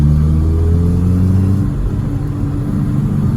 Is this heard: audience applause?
no